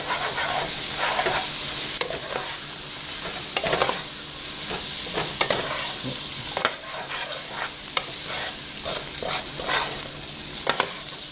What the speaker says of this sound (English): See how that's sizzling?